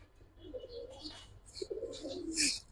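Giribaz pigeons give soft, close cooing calls, a few low throaty phrases rising and falling over a quiet background, with no one speaking.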